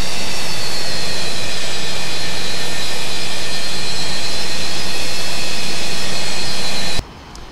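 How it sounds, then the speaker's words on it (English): A Delta DC-9 jet engine in Flight Simulator 2004 roars loud and steady, a dense broadband whine with high tonal hiss, holding constant for about seven seconds before cutting off abruptly to near quiet. "Oh, there, I hear a plane. I hear a plane."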